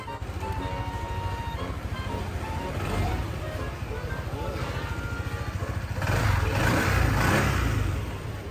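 A Honda PCX scooter that would not start after being washed fires up after a push start, its small engine settling into a steady close putter with a brief throttle blip swelling louder near the end.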